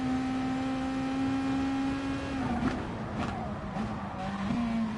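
A race car in Gran Turismo Sport brakes hard into a turn, its steady engine tone dropping as tires scrub and squeal briefly. The engine sound stays loud and close throughout.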